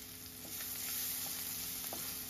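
Mustard seeds, turmeric, chili powder and white onion parts in smoking hot oil, a faint, steady close sizzle with a few small pops and scrapes, no voices.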